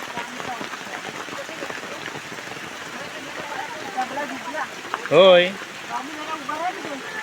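Steady rain drums on umbrellas at an outdoor Vat Purnima gathering in a Konkan village, a continuous wash of patter throughout, with people talking nearby and a brief louder burst of voice near the end.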